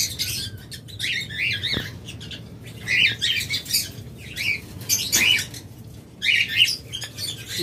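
Pet birds kept as a breeding pair squawk in repeated harsh, close bursts, with intermittent wing flapping and chirps over a steady low background hum.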